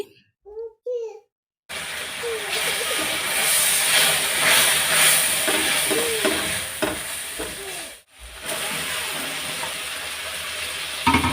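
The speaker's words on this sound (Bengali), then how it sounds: "এখানে আমি বাইং মাছ বোনা করব তার জন্য সব কিছু দিয়ে মশলাটা একটু কষিয়ে নিচ্ছি" Spice paste for baim (eel) fish sautéing in a pan gives a steady, close sizzle with occasional stirring scrapes, while a voice talks over it throughout.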